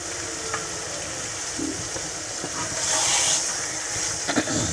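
Moringa drumstick chicken curry cooking covered over low heat, giving a steady faint sizzle and simmer with soft bubbling and occasional small pops throughout, no voices.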